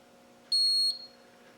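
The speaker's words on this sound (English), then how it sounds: "It gives you a warning buzzer," A digital torque wrench's warning buzzer sounds a single sustained high electronic beep lasting about half a second on reaching 55 while tightening a Land Rover 300Tdi cylinder head, clear and close, over a faint steady hum.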